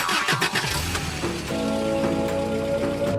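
A cartoon family car's engine cranks and catches, settling into a steady mid-pitched hum, with a brief burst of rustling noise before it, heard without talk.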